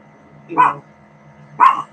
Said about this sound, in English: Oh, my dogs are freaking out.